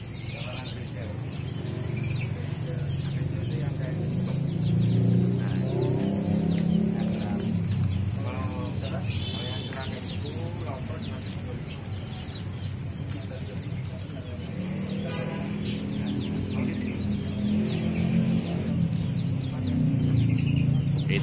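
Caged songbirds, including prenjak, chirp and tweet in rapid, overlapping bursts at a bird market stall in Palmerah. The calls are close and continuous over a busy background while people talk throughout.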